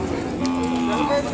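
Ongole cattle mooing at a livestock market in Telangana, a drawn-out bovine low rising over the steady din of the crowded sale yard, close and fairly loud.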